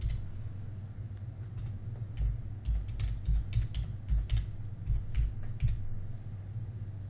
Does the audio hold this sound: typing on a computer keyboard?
yes